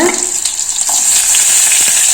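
Loud, bright sizzle of 2-3 garlic cloves hitting hot oil with shallots, a dense hiss that rises sharply then holds steady, close up, with no voices.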